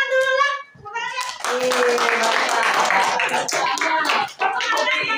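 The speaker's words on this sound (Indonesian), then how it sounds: "Tepuk tangan dulu lah. Tepuk tangan ya." Children in a classroom clap their hands together in an irregular burst, following a short spoken prompt and a brief pause, with children's voices mixed in.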